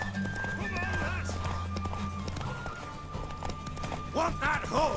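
Horse hooves clip-clop steadily in The Witcher 3, with a neigh rising near the end, set against a game soundtrack and a voice speaking over it.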